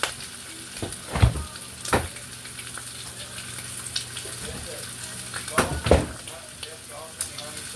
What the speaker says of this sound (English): Just fry it all the way through.